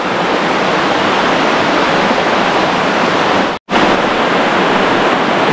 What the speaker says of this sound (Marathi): ते वाहतं पाणी आहे आणि पूर्ण शेवाळ आहे